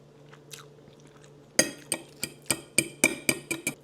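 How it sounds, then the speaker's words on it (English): Someone eating fish, with a run of loud, close crunchy bites and chews arriving in a steady rhythm, roughly two or three per second, over a faint background hum. "I'm just eating the fish because the fish tastes good"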